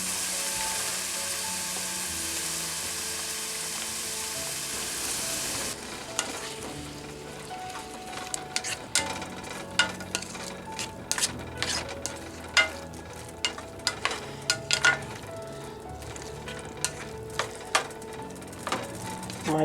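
Tofu and tomatoes stir-frying in a pan, a steady loud sizzle that shifts after a few seconds into scattered clicks and scrapes of a utensil stirring, with no talking.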